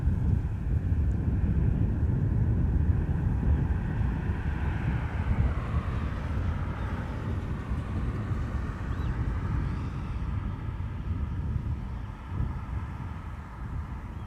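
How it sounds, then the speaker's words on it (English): A twin-engine jet passes right overhead at Amsterdam Schiphol Airport with a loud, steady broadband roar. The roar slowly swells and fades over several seconds, mixed with gusty wind buffeting on the microphone. No one speaks. "A twin jet is passing right overhead."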